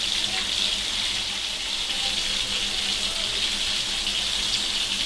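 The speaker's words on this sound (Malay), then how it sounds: "Kita buang air dia." Water runs off washed squid as it is drained, a steady, close, gushing stream like a running tap, continuous and loud for about five seconds with no talking.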